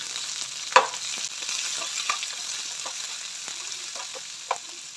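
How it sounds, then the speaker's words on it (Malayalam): Mustard seeds, curry leaves and shallots fry in coconut oil with a soft, steady sizzle close by, punctuated by sharp pops and crackles of spluttering seeds and a few light stirring taps; no voices. "വെളിച്ചെണ്ണ ഒഴിച്ച് കടുകിട്ട് കറിവേപ്പിലയിട്ട് കൊച്ചുള്ളി,"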